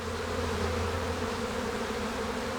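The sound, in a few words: honeybees buzzing around an open hive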